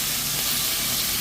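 Noodles being sautéed in a pan, a brief, dense, steady sizzle heard up close.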